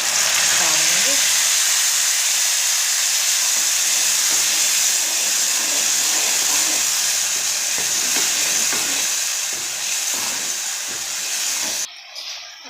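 Tomato, green chili and ginger paste frying in masala while cooking a bottle gourd sabzi, giving a steady loud sizzle and hiss with faint stirring knocks, ending in a brief clatter.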